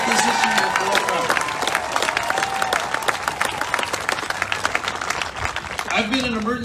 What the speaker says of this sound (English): I think we need to give her a real big applause